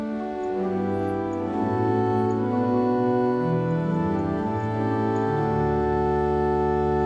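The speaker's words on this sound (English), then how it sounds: "The first family of sound is the principal tone of the organ, and that sounds like this." Principal stops of a pipe organ at Notre Dame sound the basic organ tone, sustained chords moving slowly through shifting harmonies, full and steady with no voices.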